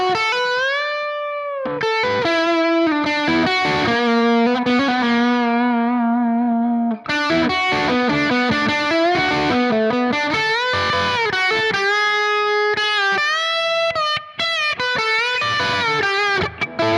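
A stock Les Paul electric guitar played through a Nano Cortex amp modeler, a continuous, loud, overdriven run of sustained notes and chords with steady distortion throughout and no talking.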